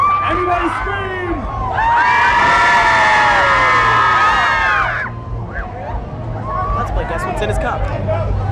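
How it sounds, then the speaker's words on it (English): A Warped Tour festival crowd bursts into loud, sustained screaming and cheering for a few seconds, swelling together then fading into scattered whoops and shouts, with a voice over a PA beforehand. "Everybody scream."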